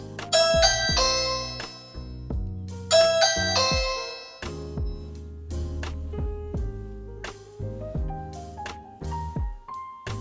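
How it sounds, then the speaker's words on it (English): A Ring Chime doorbell plays its test chime, a bright multi-note ding-dong melody that repeats twice, loud and close, then moves into a longer sequence of descending tones with no talking. "to test it, just press the Test on Chime button"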